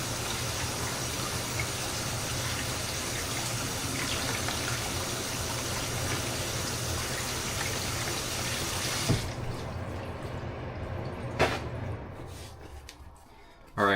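Water pours steadily from a kitchen tap during dinner cooking, a loud continuous gush that cuts off partway through, followed by a few clanks and faint kitchen handling sounds.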